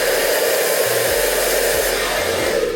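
A hair dryer blows steadily and loudly while hair is blow-dried over a brush, a constant near roar with no voices.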